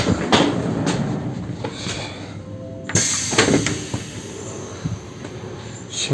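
Steady rumbling noise of a train in Lithuania, with scattered clunks and a sharp door-like thud partway through; no one speaks.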